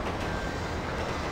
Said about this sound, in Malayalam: ഞാൻ ആക്സിലേറ്റർ അങ്ങനെ ഫുള്ള് കൊടുത്തു